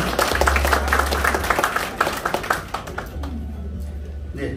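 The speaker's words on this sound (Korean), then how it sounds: "한 분하고 소개해드릴 때마다 뜨거운 환영의 박수를 부탁드리겠습니다." Welcoming applause at the opening of a Democratic Party county-head candidate's campaign office in Goheung, loud, dense clapping from a crowd for about three seconds, thinning into scattered claps and a low background hum.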